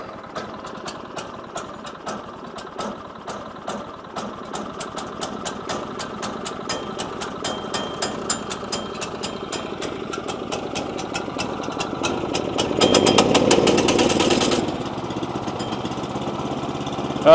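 A sawmill engine idling while it warms up, a steady knocking chug running throughout and growing louder, with a brief surge near the end.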